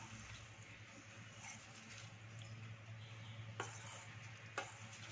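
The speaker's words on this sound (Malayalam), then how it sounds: "നമ്മളൊന്ന് നന്നായിട്ട് ഇളക്കി യോജിപ്പിച്ച് കൊടുക്കുക ഇത് ഫ്രൈ ചെയ്യുന്നതിന് മുൻപുള്ളൊരു പ്രോസസ്സാണ്" Cauliflower pieces being stirred in batter in a bowl before frying for gobi manchurian, a soft continuous wet stirring, faint and close, with two sharp clinks of the utensil against the bowl near the end.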